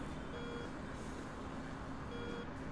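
A cockpit warning alarm in the DCS F-18 Hornet flight simulator game sounds as two faint, short beeping tones under a steady broadband rumble of engine noise.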